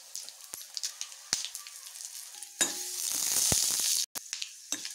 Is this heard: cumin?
yes